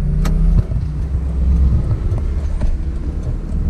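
A 1981 Pontiac Trans Am drives on a road from the interior, its low engine rumble and road noise steady and loud, with a brief high whine early on and some knocking thumps.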